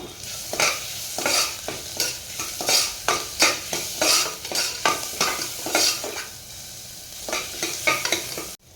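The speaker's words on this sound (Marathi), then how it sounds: "वाटण आणि कांदा हे दोन्ही एकत्र परतून घ्यायचं" Ground masala paste and onion being sautéed together in a pan for a mixed-sprout curry, with repeated scraping strokes of a spatula against metal over a soft sizzle, close and rhythmic, no talking.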